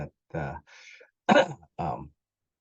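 A few short, separate coughs and throat-clearing sounds from a man with bronchitis, close and fairly quiet, with pauses of silence between them.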